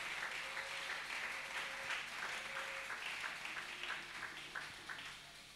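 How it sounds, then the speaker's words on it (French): A church congregation applauds for Jesus Christ, a steady, moderately distant wash of many hands clapping that runs throughout, thinning slightly toward the end. "Tu acclames très fort pour Jésus-Christ."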